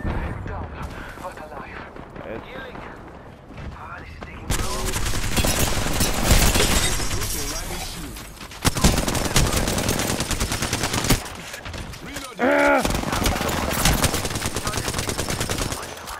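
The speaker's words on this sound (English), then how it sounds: "They're shooting at me." Rapid automatic gunfire from a firefight in Apex Legends rattles in loud sustained bursts with short gaps, and a player talks over the shooting.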